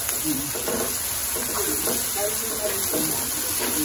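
Bagoong alamang shrimp paste sautés in a pan with a constant sizzling hiss and the scrape of stirring, under people talking.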